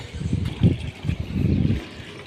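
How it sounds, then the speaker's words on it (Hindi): Water gushing from a pipe as a freshly started pump motor pushes it through, a close, low, uneven splashing rush that swells and dips in short surges over a couple of seconds. "अभी आ रहा है पानी"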